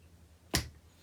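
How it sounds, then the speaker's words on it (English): A single sharp hand tap marks a quarter-note beat during a drum rhythm lesson, a short crisp click standing alone in a quiet room. "So first I'm going to get my quarter note tapping."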